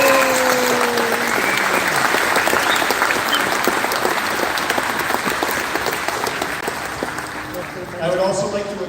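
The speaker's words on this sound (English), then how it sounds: "I would like everybody to recognize these efforts with a round of applause." A graduation ceremony crowd gives a sustained round of applause, a broad, dense clatter of hands that slowly fades, with a brief voice or tone near the start.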